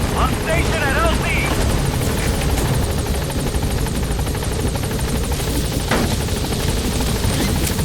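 Pequod, the transport helicopter in Metal Gear Solid V: The Phantom Pain, arrives at a landing zone with a loud, steady rotor drone that fills the whole stretch, and a radio voice speaks over it briefly.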